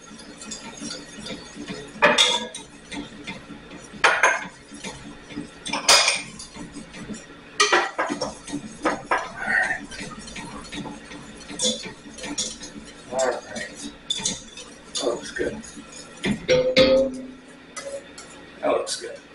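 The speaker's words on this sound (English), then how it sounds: "I'm gonna mix this up for another maybe 30 seconds" A utensil scrapes and clinks against a pan while a creamy chicken filling is mixed, giving intermittent close metallic scrapes and taps, with a person talking throughout.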